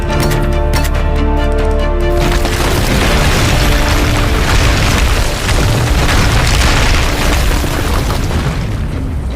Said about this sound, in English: with the statue destroyed